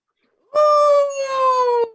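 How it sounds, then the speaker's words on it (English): A cat gives one long, loud, tonal yowl lasting over a second, a drawn-out howl-like cry with a slight fall in pitch, alone against silence. "The cat."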